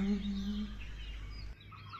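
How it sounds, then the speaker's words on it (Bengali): Birds chirp faintly around a large countryside farmhouse, with a low steady hum underneath and a brief tonal hum at the start before the sound drops quieter. "পাখিদের কিচিরমিচির শব্দ"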